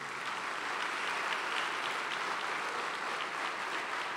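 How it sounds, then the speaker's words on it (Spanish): A church congregation claps together in steady, dense applause that fills the room evenly from start to finish, with no voices rising above it. "Dale un aplauso al Señor."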